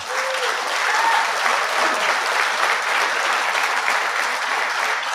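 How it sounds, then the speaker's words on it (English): Sustained, dense applause from a large audience at a military awards dinner honoring a Chief Warrant Officer, loud and even throughout with a few faint whistles over the clapping. "Ladies and gentlemen, a round of applause for Chief Warrant Officer Snyder."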